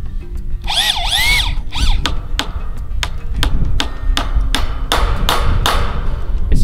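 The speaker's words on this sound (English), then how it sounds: "So I'm gonna get one screw in here." A power drill drives a screw into wood while building a chicken tractor frame: a brief rising motor whine at first, then a run of sharp, close taps and knocks in an uneven rhythm.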